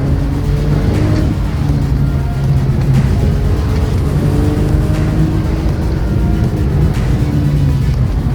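A tuned BMW 328i race car drives an autocross slalom, its engine droning loudly and continuously from inside the car, with the pitch rising and falling as the throttle comes on and off between gates.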